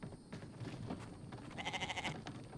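A goat bleats in a survival video game, a wavering nasal call repeated over a busy background of game noise.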